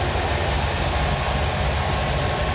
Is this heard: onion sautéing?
no